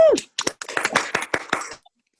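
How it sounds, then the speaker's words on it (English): A small open-mic audience gives a closing round of applause, a short burst of scattered hand claps close by that stops abruptly after about two seconds, with a brief cheer at the start. "let's have a closing round of applause for all of our"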